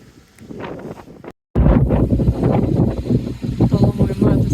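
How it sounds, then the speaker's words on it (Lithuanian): Strong wind gusting against the microphone on a sailboat, rough low buffeting that drops out briefly, then returns louder and keeps surging unevenly close up. "nes vėjas tai ganėtinai didelis"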